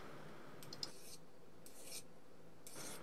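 A metal file is scraped across a carving knife blade made from a broken file, giving three short, faint rasping strokes close up in a quiet room.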